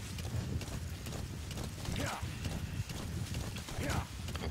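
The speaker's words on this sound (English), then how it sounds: "Ride the D horse over to that" Horse hooves clip-clopping in the Metal Gear Solid V video game, a quick, steady gallop rhythm under continuous game ambience, with a voice talking over it.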